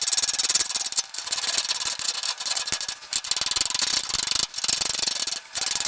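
A small hand tool scrubs the threads of a bolt on a 1964 Chevy C10 brake job, making a steady gritty rubbing and rasping close up, broken by a few short pauses.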